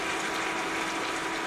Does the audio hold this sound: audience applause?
no